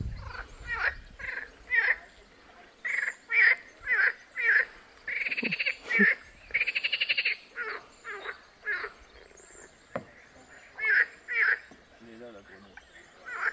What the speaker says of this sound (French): C'est la grenouille qui fait ce bruit-là.